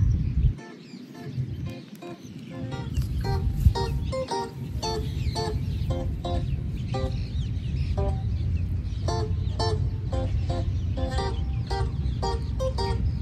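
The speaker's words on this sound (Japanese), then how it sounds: "すごいね、鳥の鳴き声がいい。" Birds call outdoors in Hawaii, a steady run of repeated high, clipped chirps and calls over a constant low rumble of background noise.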